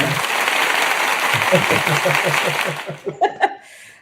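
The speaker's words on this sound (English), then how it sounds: "Round of applause for Armon." A crowd claps for Armon Wiggins with scattered chuckles and murmurs mixed in, the applause fading out near the end as a few voices and laughs remain.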